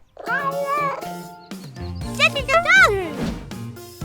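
A cartoon cat meows several times, with high, bending cries clustered near the middle. Children's voices speak around the meows, over a light musical background.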